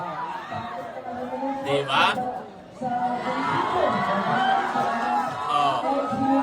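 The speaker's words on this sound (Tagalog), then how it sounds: "Sigawan mga tao." A crowd of people shouts and cheers at a political gathering, a dense roar of many voices rising and swelling, close and loud, with a few nearby voices speaking over it.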